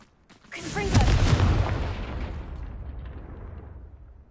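A Confringo blasting spell explodes in Hogwarts Legacy, a loud booming burst with a heavy low rumble that swells quickly and then decays slowly into a long fading tail.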